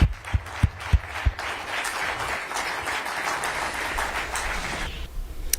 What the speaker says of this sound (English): Let's give the Secretary a round of applause